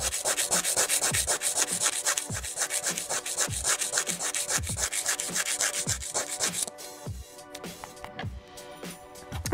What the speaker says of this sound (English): filing it on the sides, bringing it in just a little bit.